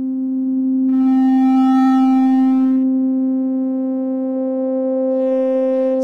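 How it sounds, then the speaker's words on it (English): A synthesizer holds a steady tone with the filter resonance raised while the cutoff sweeps across its harmonics, bright overtones swelling and fading over the loud, sustained note. "And then I'll start sweeping the cutoff frequency."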